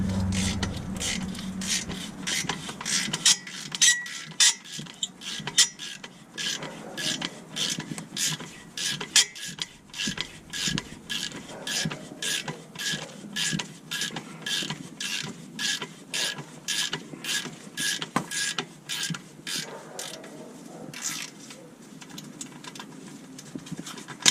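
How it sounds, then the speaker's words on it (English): A 3/8-drive ratchet with a 15mm deep well socket loosening an exhaust nut on a Lincoln MKS EcoBoost, giving rapid, close clicking in steady bursts that runs on throughout. "This is a 15mm deep well socket on a 3/8 drive ratchet."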